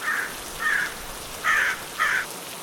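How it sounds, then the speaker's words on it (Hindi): Four harsh crow caws at a steady pace, each short and fairly loud, over a soft hiss of rain. "जाग रहे थे केवल कौवे जिन्हें भूख सता रही थी।"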